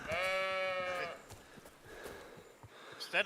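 Sheep bleating in the video game Kingdom Come Deliverance 2, one long wavering bleat up front, followed by softer game ambience, scattered footsteps and brief vocal noises.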